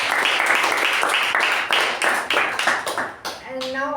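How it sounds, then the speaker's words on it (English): Audience applause at a Toastmasters club meeting, a steady wash of many hands clapping fairly close and loud, thinning toward the end as a voice begins to speak. "So, but of course, big round of applause to Toastmaster Deepa."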